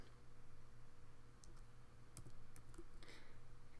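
A computer keyboard is typed on briefly, giving a few faint, scattered clicks over a steady low background hum.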